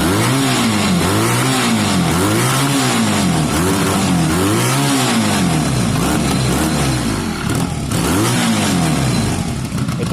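An older Honda CB250 motorcycle engine, needing an oil change and running slightly smoky, held at a loud, close, steady idle with a rhythmic, pulsing throb and a few light rev swells.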